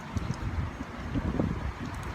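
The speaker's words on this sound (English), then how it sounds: "It's a seriously windy day" Strong wind blowing outdoors on a seriously windy day, a steady low roar and rumble of gusts buffeting the microphone with faint rustling, no voices.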